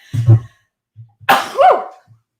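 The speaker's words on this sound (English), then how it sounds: "I'm going to sneeze." A single close sneeze bursts out after a short intake of breath, followed by a quiet sniff; no talking.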